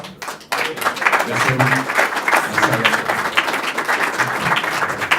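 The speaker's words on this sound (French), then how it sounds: "Je crois qu'on peut les applaudir très fort." An audience at a business networking event bursts into loud, dense applause after a brief pause, the clapping steady and close, with a voice speaking briefly over it.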